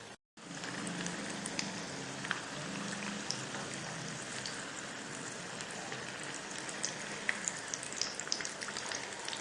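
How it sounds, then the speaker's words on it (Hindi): Bread rolls fry in hot oil over a gentle flame with a dense, even crackling sizzle like steady rain, continuous and close, with scattered sharper pops. "सबसे पहले रोल को फ्राई कर लेते हैं"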